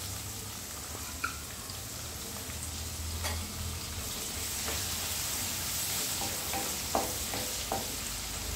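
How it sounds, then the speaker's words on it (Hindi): Chopped onion with asafoetida frying in a pan for ragda chaat gives a steady, hissing sizzle throughout, with a few soft clicks and taps from stirring close by. "अब इसमें डालते हैं 1 प्याज कटा हुआ"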